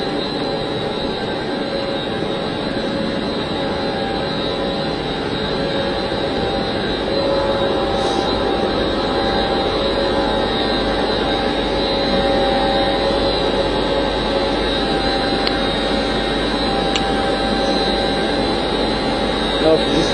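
Loud, steady roar of an ATAD mix pump running in a septage treatment facility, a constant mechanical drone that fills the space without pause.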